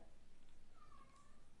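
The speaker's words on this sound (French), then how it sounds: "Ça, c'est mon chat." A single short cat meow rises out of a low background hum, faint and brief, with no talking.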